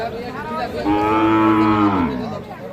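A three-month-old Sahiwal bull calf gives one drawn-out moo, loud and close, rising and then falling away over about a second, with quiet farm background around it.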